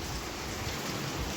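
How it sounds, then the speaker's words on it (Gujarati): Rain falls steadily outdoors near farmland and hills, giving an even, unbroken hiss with no voices over the short stretch. "વરસાદ આવ્યો ને જોવા હાટુથી"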